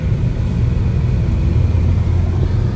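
A 2008 Honda Civic on the road, its engine and tyres giving a steady low rumble that stays loud and even from start to finish, with no voices.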